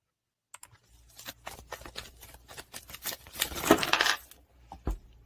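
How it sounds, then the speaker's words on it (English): Tarot cards are shuffled sloppily at close range, a quiet run of crisp papery riffles and flicks in an uneven rhythm, building to a denser flurry before a few final taps. "And a little bit of a sloppy shuffle."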